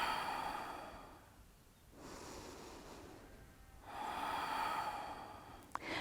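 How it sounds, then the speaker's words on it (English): Slow deep breathing during a morning yoga stretch, two long breath cycles of soft airy inhales and exhales, quiet and close with no talking, ending with a small click. "Take 2 deep breaths."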